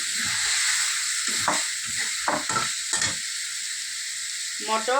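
Green peas are added to a spice paste frying in oil, giving a bright, steady sizzle close by, broken by the scrape and clatter of stirring.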